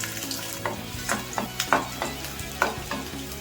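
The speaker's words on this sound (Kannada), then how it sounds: "ಇವಾಗ ಎಣ್ಣೆ ಕಾದಿದೆ, 1 ಗಡ್ಡೆ ಬೆಳ್ಳುಳ್ಳಿ ಬಿಡಿಸಿಕೊಂಡಿದ್ದೀನಿ, ಅದನ್ನು ಹಾಕ್ಕೊತಾ ಇದ್ದೀನಿ." Garlic cloves from a whole bulb frying in hot oil in a pan, a steady sizzle broken by repeated sharp stirring scrapes and clinks, close and fairly loud.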